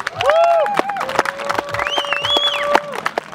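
A crowd at a flatland BMX battle cheers and claps, with shrill whistles and whoops over a steady patter of applause, fairly close and loud.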